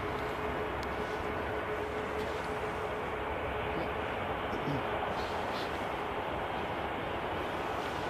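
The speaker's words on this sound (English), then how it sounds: "Another aircraft lining up here." A TUI airliner lining up for departure at Manchester Airport on a cold day, heard as a steady, broad engine roar from a distance that stays even and continuous throughout.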